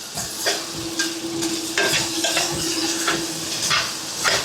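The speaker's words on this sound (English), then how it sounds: "Steak is that last little sizzle it's got going on" Steady crackling sizzle of steak frying in a pan on low to medium heat, with occasional scraping stirs and utensil clicks, close and continuous.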